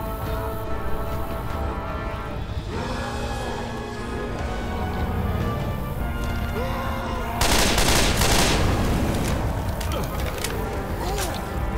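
Sustained strafing gunfire in a tank-rush battle on The Parish, a dense wall of rapid shots that swells louder and harsher partway through, with voices mixed in among the din.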